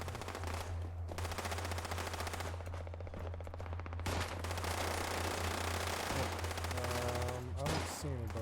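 Shotgun fire in a video game comes as dense, steady bursts of shots rolling on almost without pause at a moderate, even level.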